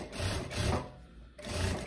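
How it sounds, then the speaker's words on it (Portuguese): Sewing machine set to stitch length 3 sewing a finishing seam that folds over the binding on viscose lycra, a close, steady mechanical whirr that pauses briefly mid-run and resumes. "O ponto da minha máquina continua no 3 e eu venho fazendo essa costurinha aqui de acabamento"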